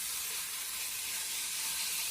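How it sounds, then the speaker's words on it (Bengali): Chicken mince frying in melted butter, a soft continuous sizzling hiss that stays even and close throughout. "এবার চিকেন কিমাটা এর মধ্যে দিয়ে দেবো। চিকেন কিমাটা দিয়ে শুধুমাত্র একটু ভেজে নেব।"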